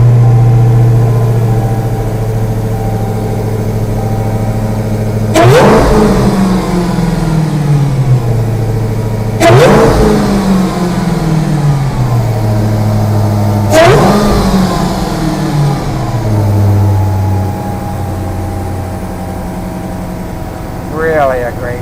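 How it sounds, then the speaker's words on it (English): A Dodge Challenger Hellcat's big V8 engine starts, then roars and revs repeatedly in three loud bursts, each dropping back to a rumbling idle, heard up close. "All right, Chris, let's go ahead and fire it up."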